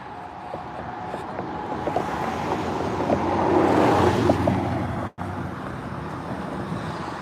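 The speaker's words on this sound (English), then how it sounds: "Let these cars go and we can get across." Cars pass on a 60 mph road during an evening walk, a continuous roadway rumble that swells as a vehicle goes by close and then fades.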